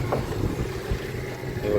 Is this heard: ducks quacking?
no